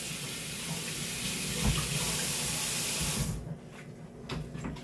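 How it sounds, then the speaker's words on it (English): Cold tap water runs steadily over onions in a kitchen sink, a broad, loud hiss that stops abruptly after about three seconds, leaving faint drips and clinks. "Rinsing the onions in cold water helps"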